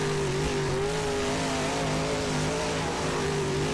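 A dirt modified race car engine in rFactor 2 sits bouncing off its rev limiter in first gear, a loud steady buzzing drone with stacked tones that waver slightly, heard alone without talk.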